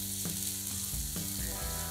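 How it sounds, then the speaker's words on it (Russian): Onions sizzle and crackle in a hot pan with a little vegetable oil, with a few soft scraping stirs breaking the steady frying hiss. "Подготовленный лук кладем на горячую сковороду с небольшим количеством растительного масла."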